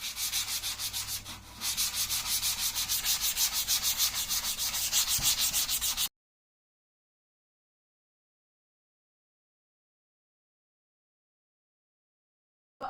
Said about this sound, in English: I'm just going to take a sanding block and I'm going to smooth it out a little bit, get all the edges